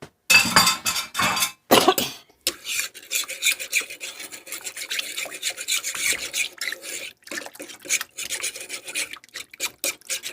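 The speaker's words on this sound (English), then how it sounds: "You gotta stir it because you don't want your milk to burn and scorch" Milk mixture stirred in a pot with a utensil, giving steady raspy scraping strokes close by that come in bursts with short pauses, and no talking.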